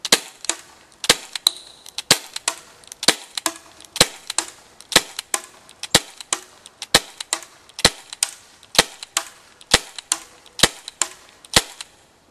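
A CO2 airsoft pistol fires a long, steady string of sharp, crisp pops at about one shot per second, loud and close, with no talking.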